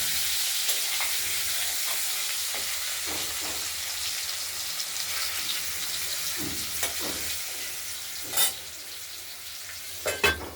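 Potatoes sizzle in hot oil with a steady hiss, broken by occasional scraping and clinking from stirring, louder near the end.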